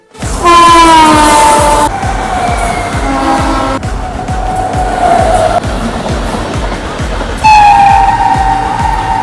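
A train races through a high-speed level crossing in India, a loud close roar of rushing wagons punctuated by several long, blaring horn blasts that start, stop and return.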